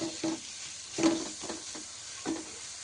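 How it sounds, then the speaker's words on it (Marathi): Onion and tomato sauté in oil in a pan for a mathachi dal dish. A soft, steady sizzle sits under several faint stirring scrapes. "टोमॅटो घालून घेऊया। टोमॅटो सुद्धा छान परतून घ्यायचे।"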